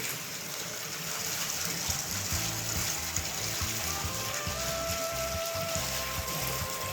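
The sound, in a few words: hot spring water flowing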